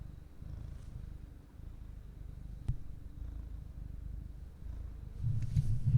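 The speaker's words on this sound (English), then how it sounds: "I feel like the purring's coming through." A big, affectionate pet cat purrs as a low, steady rumble that runs continuously and stays soft and close, with a brief click partway through and a slightly louder stretch at the end.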